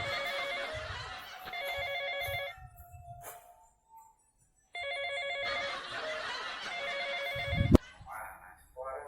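A mobile phone rings with a repeating electronic ringtone in bursts, pausing briefly mid-clip before resuming loudly, with a sharp knock near the end and faint voices underneath.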